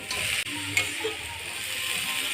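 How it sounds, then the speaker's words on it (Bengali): Moong dal fries with turmeric, fried potatoes, pumpkin stems and greens in a pan, a steady close sizzle with brief stirring knocks. "এবার ওর মধ্যে 1 চামচ হলুদ গুঁড়ো, ভেজে রাখা আলু আর ডাঁটাগুলো দিয়ে দিলাম, আর শাকগুলোকেও দিয়ে দিচ্ছি"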